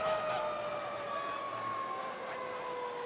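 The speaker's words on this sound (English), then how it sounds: "Half-time siren sounds as Ruandrea is driven back" A long half-time siren at a rugby match wails steadily at a distance over a faint crowd murmur, its tone sliding slowly downward.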